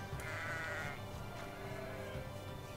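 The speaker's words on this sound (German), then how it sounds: "Die mähen sogar." Sheep bleating in the video game Magicka, several drawn-out bleats layered over constant dense game noise, close and fairly loud for the first second, then blending into the steady background clamor.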